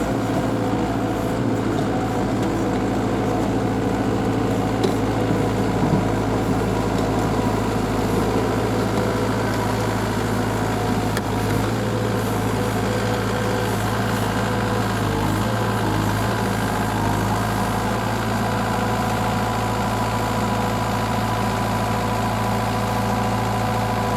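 A Takeuchi skid steer's diesel engine idles steadily at close range, a constant low rumble with mechanical vibration throughout and no speech.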